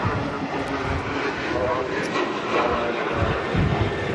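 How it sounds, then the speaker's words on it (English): An Aer Lingus ATR 72 turboprop airliner comes in to land at Manchester Airport in strong gusty wind, its engines a steady, broad roar that holds throughout, with voices talking over it. "Aer Lingus next to land, arriving in from Dublin, ATR 72."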